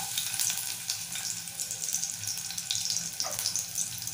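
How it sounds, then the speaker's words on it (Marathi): Crushed unpeeled garlic sizzling in hot oil for a spicy brinjal-potato curry, a steady close crackle with faint watery hiss and an occasional brief clink, no talking. "आपलं तेल छान गरम झालंय, त्यामध्ये आपण सालासकट ठेचलेला लसूण घालूया"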